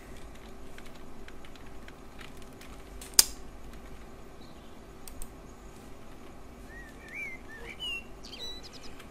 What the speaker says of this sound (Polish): Ptaszki to... ładnie ćwierkają.